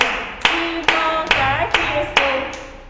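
Young preschool children clap their hands in a classroom circle, five or six sharp group claps spaced about every half second, close and loud, with sung voices faintly mixed under the rhythm.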